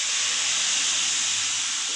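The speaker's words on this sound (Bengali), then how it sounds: "ডালটাকে ঢেলে দিলাম।" Mung dal lentils with mixed vegetables hit a hot pan with a loud, continuous hiss, broad and close, holding steady without pause.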